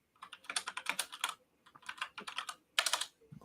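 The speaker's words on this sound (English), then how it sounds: "God, I hear your keyboards." Rapid clacking of computer keyboard typing in bursts, near and crisp, with short pauses between runs of keystrokes and no talk over it.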